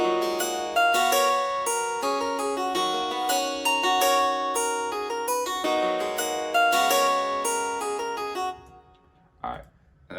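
A hip-hop beat with a reverb-soaked guitar melody in front and the low end thinned out under the kick and 808 plays loud for about eight seconds before fading to a brief quiet tail.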